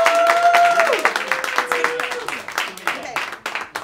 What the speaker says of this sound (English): Clap if you think it's Dave Sheehan.